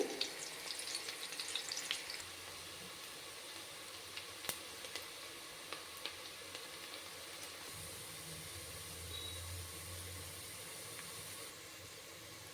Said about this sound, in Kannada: ಗರಂ ಮಸಾಲನೂ ಈರುಳ್ಳಿನೂ ಹಾಕ್ಕೊಂಡಿದ್ದೀನಿ. ಇದು ಸ್ವಲ್ಪ ಚೆನ್ನಾಗಿ ಫ್ರೈ ಆಗಲಿ.